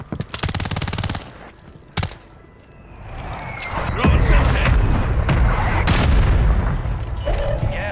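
Mortar strike explosions in the video game Warzone 3 Resurgence: loud rapid gunfire bursts first, then a sharp blast, then heavy booming impacts that swell and rumble close by for several seconds.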